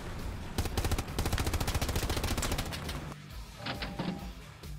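Rapid automatic gunfire in the World War II shooter Hell Let Loose, sustained bursts of close, loud shots for about three seconds, then scattered fainter distant shooting.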